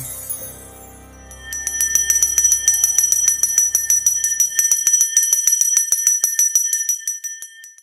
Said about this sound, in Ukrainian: В онлайн режимі дзвоник прозвучить.